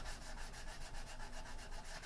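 Steady, close rubbing of sandpaper on a wooden project, a continuous rhythmic scratching with regular back-and-forth strokes and no talk.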